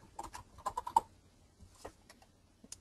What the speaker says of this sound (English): Now I click on the T, and I'm just going to type